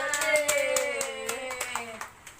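A school class claps hands together in a quick, fairly light burst of rhythmic claps during a microteaching lesson on ecosystems, close by and fading after about two seconds.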